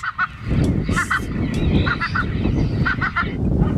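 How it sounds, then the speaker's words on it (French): An electronic bird-scaring device blares loud repeated honking bird calls in bursts of two or three over a constant noisy background. "Ça sert juste à ça pour faire peur aux oiseaux."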